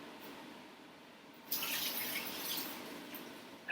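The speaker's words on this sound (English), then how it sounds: "I'm going to dump a little bit of this water out." Water poured out into a kitchen sink while making homemade pasta sauce, a steady close splashing rush that starts abruptly partway through and continues to the end.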